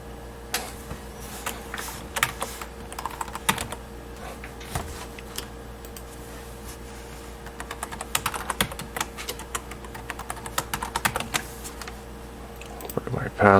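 Password typed on a computer keyboard during a Linux Mint installation on a Dell XPS 435 MT desktop: a steady run of close, crisp key clicks with irregular rhythm over a low background hum.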